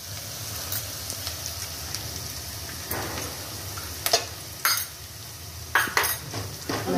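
Dried prawns with turmeric frying in a pan for a ridge gourd curry sizzle softly under sharp metallic clinks and scrapes of a spatula against the pan, several loud knocks near the end.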